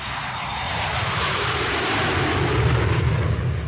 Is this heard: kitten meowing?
no